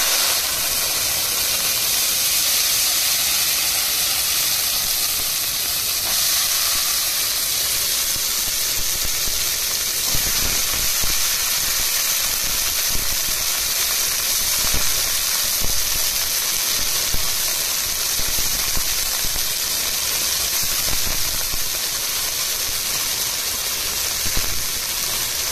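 Continuous soft hiss and sizzle of chopped garlic and shallots frying in a pan, steady throughout with no talking.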